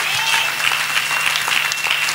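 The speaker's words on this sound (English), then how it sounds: "Let us clap for Master Jesus." A church congregation claps loudly and continuously, a bright, dense burst of applause with a faint steady hum underneath and no voices standing out.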